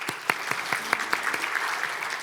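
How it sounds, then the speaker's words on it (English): An audience at a conference on infectious disease diagnostics gives a short round of applause after a session, with moderately quiet, scattered claps and no talking. "Another round of applause, please."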